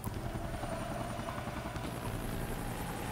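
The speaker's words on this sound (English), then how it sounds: "the helicopter's arriving before Dante gets there" A helicopter in the video game Devil May Cry 2 approaches, giving a continuous dense rotor drone with rapid thumping at an even loudness that holds throughout, without any speech.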